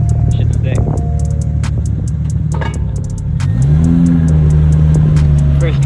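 A Toyota Supra rolls into a warehouse drop-off spot, its engine idling low and then giving a brief rising rev before settling, with clicks and bumps around it and people talking nearby.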